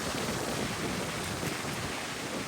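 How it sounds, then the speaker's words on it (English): Ocean waves crash against a seawall on Cape Cod, making a constant broad roar of surf mixed with gusty wind buffeting the microphone, with no voices. "Pretty powerful little waves today."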